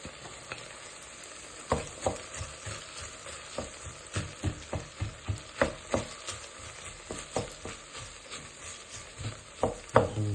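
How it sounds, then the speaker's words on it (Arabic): Garlic and onion frying in a pan as part of a meal with crispy fried fish, steady close sizzle with a run of regular scraping stirs from a utensil throughout. "نضيف الثوم والبصل"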